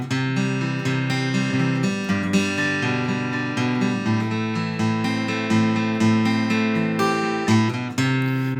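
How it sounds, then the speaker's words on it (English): Acoustic guitar fingerpicks the verse pattern of a song, a steady flowing arpeggio of ringing chord tones held at an even loud level throughout, with no voice over it. "I'm going to show you this picking pattern that you hear during the verse."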